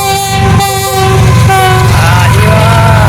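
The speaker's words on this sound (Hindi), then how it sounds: "ये देखिए रेलगाड़ी जा रही है जी" A passenger train rolls past close by, a loud, sustained rumble of wheels and cars with a tonal horn sounding over it, filling the whole stretch without pause.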